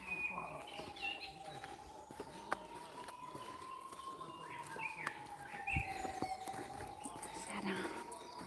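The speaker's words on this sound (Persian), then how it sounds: "صدای پرنده ها رو گوش کنید" Birds singing in a Romanian forest, a long sustained whistling note with scattered chirps and calls around it, moderately close, with soft whispering voices underneath.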